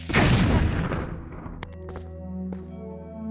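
A bomb exploding in Zelda Twilight Princess HD, one loud booming blast that rumbles and fades, followed by a couple of small knocks and game music underneath.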